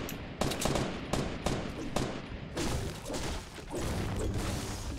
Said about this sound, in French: Mika est déjà en train de tirer, je crois